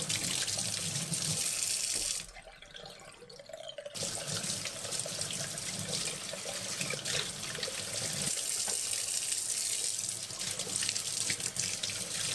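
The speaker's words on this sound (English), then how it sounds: "all the other parts just require a rinse underwater" Parts of a Kuvings EVO 820 slow juicer are rinsed under a running tap, a steady close rush of water that briefly softens as the parts move out of the stream, then resumes splashing.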